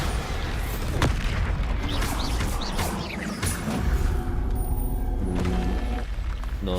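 Bombarda blasting spell from Hogwarts Legacy on PC, heavy booming explosions bursting repeatedly over a dense rumbling wash of combat noise, loud and close.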